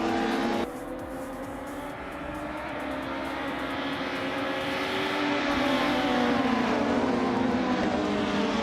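A 1993 Peugeot 405 race car engine in a racing video game, a loud sustained drone with a rising whine after an abrupt cut near the start, building steadily as the car pulls away.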